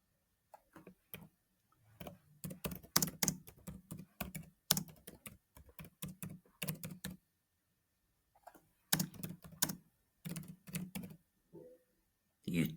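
Someone types on a computer keyboard in quick bursts of close, crisp key clicks, pausing briefly mid-way before resuming, with no one talking.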